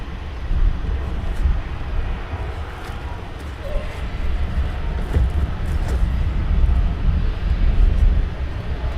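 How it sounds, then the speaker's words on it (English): An EasyJet airliner on final approach at Luton Airport in the early morning, a rumbling engine drone mixed with outdoor background noise, fairly loud and steady with slight swells. "EasyJet on final"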